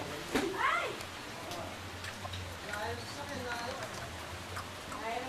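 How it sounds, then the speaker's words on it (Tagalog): Steady rain patters in the background while people talk, with a brief squeaky chirp near the start. "Umuulan."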